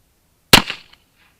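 A single sharp report from an Uberti 1849 Pocket percussion revolver, a close, loud crack with a short ringing decay and faint tail, then quiet.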